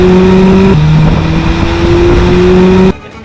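Honda Civic Type R EP3 engine held at high revs with a loud, steady droning tone, stepping up in pitch once as it climbs toward its 8,600 RPM ceiling, then cutting off abruptly near the end.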